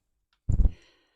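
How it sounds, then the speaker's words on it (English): Cutters snip a black plastic switch part off the sprue of a 1:8 scale 1966 Batmobile model kit, a single close, sharp clipping snap that dies away quickly. "We just need to cut those off this sprue."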